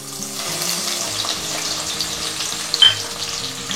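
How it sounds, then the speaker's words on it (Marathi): Green chillies fry in hot oil over a low to medium flame for a batch of chivda, a steady close sizzle and crackle running throughout with a brief sharper spatter near the end. "तर आता मिरच्या सुद्धा आपल्याला छान मस्त अशा तळून घ्यायच्यात, लो टू मीडियम फ्लेमवरतीच तळायच्या"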